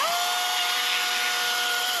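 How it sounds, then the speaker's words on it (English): A chainsaw cuts into a big tree in the woods, its high engine whine holding steady at full throttle before dipping briefly near the end, loud and close, with no voices. "You may want to hit that with the chainsaw, my guy."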